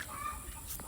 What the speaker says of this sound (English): Throwing a scratch to the chickens.